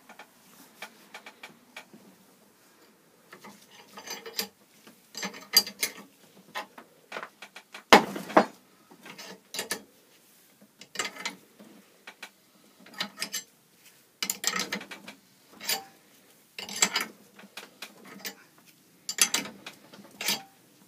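A jaw puller draws the blade boss off a Rover lawn mower with bursts of clicking, ratcheting mechanical sounds in irregular clusters, close and fairly quiet, with a louder knock partway through.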